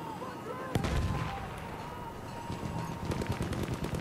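A grenade blast in Battlefield 1 on PS4, one sharp explosive crack followed by a rolling rumble and scattered distant gunfire, fairly loud amid ongoing battle noise.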